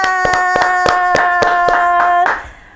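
Steady rhythmic hand clapping, about eight evenly spaced claps over a sustained musical tone, ending in a short louder burst that fades.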